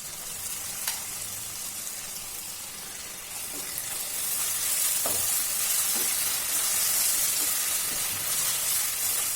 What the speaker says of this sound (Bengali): এটাকেও আমি ভালো করে একটু ভেজে নেব।